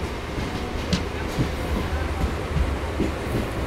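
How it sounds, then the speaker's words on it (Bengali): An electric train pulls out of New Barrackpore station with a steady, loud rumble and rattling carriages, and faint rhythmic wheel clicks run beneath the noise. "ছেড়ে দিল নিউ ব্যারাকপুর স্টেশন"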